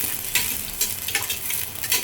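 Onion frying and being stirred in a pan as the base for a mug dal and fish head muri ghonto with katla fish, giving a steady close sizzle broken by several scraping stirs, with no voices.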